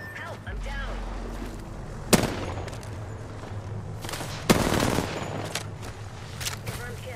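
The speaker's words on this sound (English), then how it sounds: "Opening fire." Video game gunfire during a squad firefight, with sharp loud shots at two points and rattling bursts over a steady droning background while a voice talks throughout.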